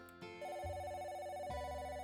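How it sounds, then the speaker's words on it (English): Landline telephone ringing in the video game Sakura Swim Club, an electronic tonal ring sounding twice in quick succession, clear and steady, with no voices over it. "Oh, the good old landline. Alright. I hear the phone ringing."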